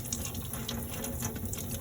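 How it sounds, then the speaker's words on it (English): Tap water runs lightly and steadily over an ink roller being rinsed clean after printing layered landscape prints, a soft continuous splash with no talk. "Keep the water on very lightly."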